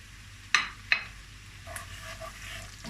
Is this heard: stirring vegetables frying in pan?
yes